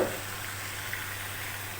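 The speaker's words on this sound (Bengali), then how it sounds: "এখন আমি এই যে ধুয়ে রাখা লাউ দিয়ে দেব।" Washed bottle gourd dropped into hot, well-fried spices, a soft continuous sizzle and hiss after a brief initial clatter, steady and fairly quiet.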